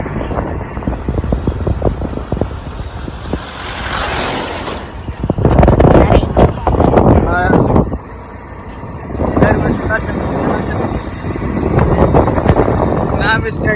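Tractors drive along a village road among green fields, their engines rumbling and rising loudly as they pass the microphone, with wind buffeting and people talking throughout.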